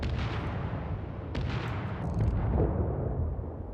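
Naval artillery fire in the World of Warships video game, with deep booming rumbles and a few sharper cracks rolling over each other, heavy and sustained with no voices.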